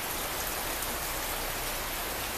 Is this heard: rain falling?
yes